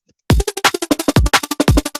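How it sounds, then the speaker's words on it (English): Shaker rhythm layered with a chopped vocal in a music mix, rapid regular sixteenth-note pulses with bright hissy tops and repeated low vocal thumps, loud and up close after a brief silence. "And the shaker and the vocal together."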